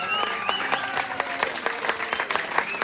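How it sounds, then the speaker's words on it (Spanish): A small group claps steadily at a Mixtec celebration in Oaxaca, a close patter of hands lasting the whole moment, with tonal brass band music running underneath. "El aplauso para los festejados y son tan amables"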